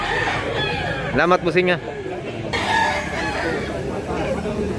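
A backyard-bred rooster crows once, loud and close, among farm chicken sounds while people talk nearby.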